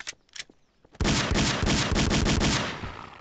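Rapid bursts of gunfire hit a barricade in Garry's Mod, with a few short shots and then a loud sustained volley lasting a couple of seconds.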